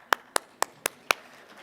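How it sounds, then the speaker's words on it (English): A keynote speaker claps for himself: five sharp, evenly spaced hand claps in quick succession, close and crisp, alone without talk. "I'm going to clap for myself on that one."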